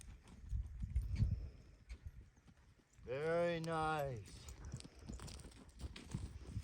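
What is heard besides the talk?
horse's hooves walking during groundwork lesson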